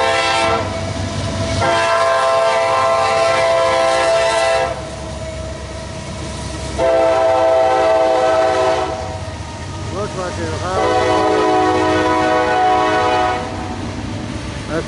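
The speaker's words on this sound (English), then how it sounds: "Here comes the train." A freight train passing on a railroad line, loud and close, with repeated long blasts of the horn over the steady rumble and clatter of wagons rolling by.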